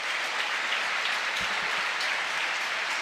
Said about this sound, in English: Rafa Marquez is sure to get a very generous ovation here from this Camp Nou crowd